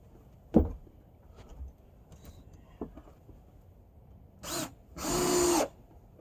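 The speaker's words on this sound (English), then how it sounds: "I was drilling to that knot, didn't like that" A power drill bores into a knot in pressure-treated deck lumber, giving two short bursts, the second longer and steadier, after a few faint knocks and creaks.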